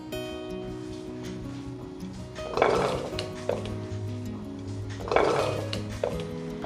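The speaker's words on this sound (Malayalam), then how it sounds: "അരിഞ്ഞു വെച്ചിരിക്കുന്ന മത്തൻ കഷ്ണങ്ങൾ കുക്കറിലേക്ക് ഇട്ട് കൊടുക്കാം" Chopped pumpkin pieces for a Kerala curry drop into a metal pressure cooker, giving two clattering, thudding bursts against the pot over a steady low kitchen hum.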